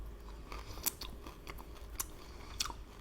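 Someone bites into a dessert of very fine shredded pastry, producing a few crisp crunches close to the mouth over quiet chewing, with no talking.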